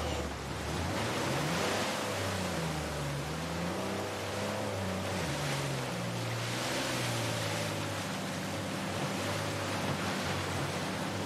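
Waterfall in Uncharted 4, a steady broadband rush of falling water that holds an even roar throughout, with a low tonal drone of music beneath it.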